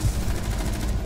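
A short, loud burst of automatic gunfire in Rainbow Six Siege, rapid shots packed close together with no pause.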